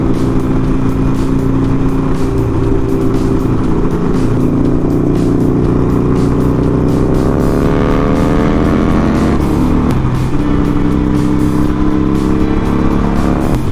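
Harley Sportster motorcycle engine on a group ride along an open straightaway outside the city, a loud, steady close-up drone whose pitch rises and falls gently with throttle changes, with no talking.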